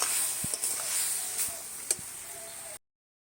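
Mixed leafy greens (pach mishali shak) frying in a pan, a steady soft hiss of sizzling with a few faint clicks, close by and uninterrupted before cutting off abruptly.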